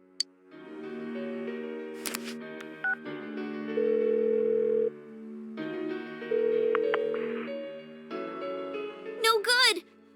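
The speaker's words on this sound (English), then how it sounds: "Give her another call." Phone dialing in the video game Persona 4 Golden: a steady sequence of tonal beeps and electronic tones alternating with pauses, under a faint musical background.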